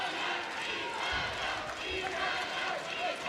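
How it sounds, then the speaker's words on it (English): A crowd at the 2019 World Taekwondo Championships final cheers loudly for an Italian fighter, a dense sustained roar of voices with a commentator talking over it. "Lots for the Italians to cheer."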